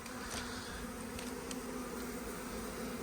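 Swarm of honey bees buzzing densely near a roof, a continuous close, loud hum of many wings with no pauses.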